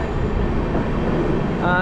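The Sealdah–Varanasi Amrit Bharat Express, a new train, runs near Kashi station with a steady, loud low rumble of wheels and carriage noise, and a brief faint rising tone near the end.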